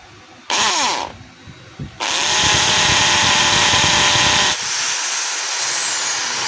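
A Stanley SDH600 half-inch hammer drill running in hammer mode, a loud close motor whine with rattling hammering that starts and stops briefly, then runs steadily for several seconds.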